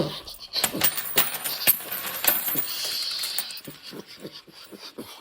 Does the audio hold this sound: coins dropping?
yes